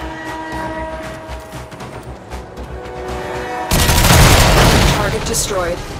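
A reactor core blows apart in the Warframe video game, a loud broadband blast erupting partway through and rumbling on over a droning game soundtrack with layered booms.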